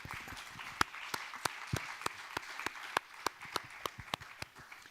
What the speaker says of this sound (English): please join me in a round of applause for all our panelists